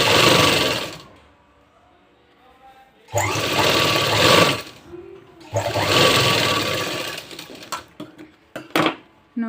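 A sewing machine stitches piping onto a sleeve in three close, loud bursts of rapid rattling, separated by quiet pauses, ending with a few scattered clicks and knocks.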